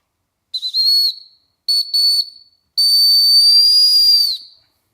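A shrill whistle is blown to warn neighbors of ICE agents: two quick fluttering blasts, a short double toot, then one long sustained blast, loud and close with silence between.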